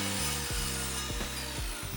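Oak pieces are cut on a miter saw, giving a steady, loud grinding whine with several short rhythmic strokes across two seconds, close up and without voices.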